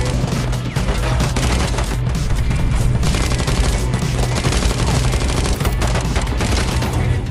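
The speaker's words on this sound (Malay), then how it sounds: "Dalam aksi baku tembak itu" Sustained, dense gunfire fills an action film shootout, with rapid overlapping shots and bursts that stay loud and continuous throughout, along with booming impacts.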